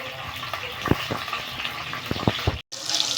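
Green chillies fry in hot oil in a kadai, a steady close sizzle with a few sharp crackles and spoon clinks before a brief cut-out.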